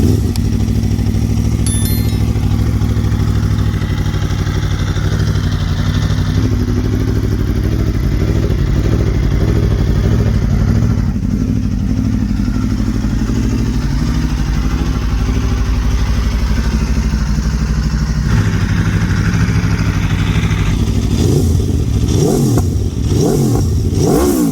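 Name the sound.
Aprilia RSV4 1100 Factory motorcycle engine starting and revving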